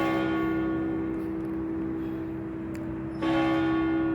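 A church bell rings steadily, its sustained tolling tones layered and resonant throughout, swelling louder near the end with no voices present.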